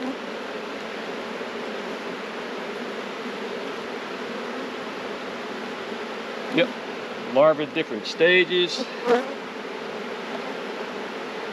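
Bees hum steadily close by in an opened, defensive farm hive with brood, larvae and pollen-laden workers; a continuous buzzing drone with a few louder passes near the middle, while someone speaks briefly over it.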